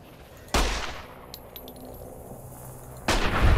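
Two sharp hunting rifle shots in the video game Wasteland, a few seconds apart, each a sudden loud crack with a decaying tail over quiet background.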